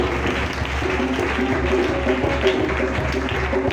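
A church congregation applauds in a steady, dense wash of clapping that stays even and loud throughout, with faint voices mixed underneath.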